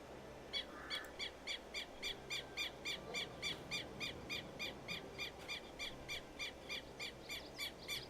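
Repeated short Caribbean bird calls in Farming Simulator 22 sound in a steady rhythm, roughly two per second, over a soft ambient background with no talking.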